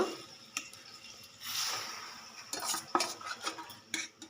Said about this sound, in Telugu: వీటిలో నీరు అంతా ఇంకిపోయే వరకు బాగా వేయించేసుకుందాం ఫస్ట్.